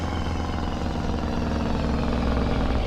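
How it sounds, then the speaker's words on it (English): A deep truck engine drone in Farming Simulator 25 with the rapid pulsing chatter of its engine brake, loud and steady for a few seconds. "love that J brake."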